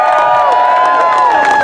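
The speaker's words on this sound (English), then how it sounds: "So give yourselves a big round of applause" A crowd at an International Workers Day May Day march and rally on the plaza in Watsonville cheers and whoops loudly, with steady applause and voices rising together throughout.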